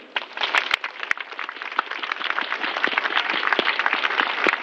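A congregation claps during a simbang gabi homily in Dubai, a lively burst of many hands clapping, dense and fairly close, with a few sharp louder claps standing out.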